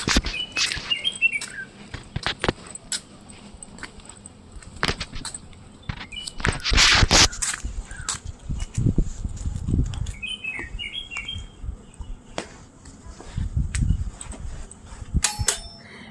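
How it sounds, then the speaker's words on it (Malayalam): Small birds chirp and tweet in scattered bursts across a quiet resort setting with no traffic, while soft wind noise, occasional footsteps and light clinks pass by nearby. "ഒരു വണ്ടികളുടെ സൗണ്ടൊന്നുമില്ലാതെ കുറച്ച് ഇങ്ങനെ കാറ്റ്, കിളികൾ ഒക്കെ ആയിരുന്നു കേട്ടോ."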